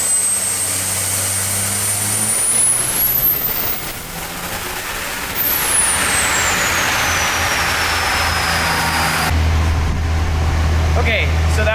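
Diesel truck with a large schoolie turbo running on a dyno, a loud steady engine roar with a rising turbo whistle that peaks, drops away, then winds down again before a low rumble takes over.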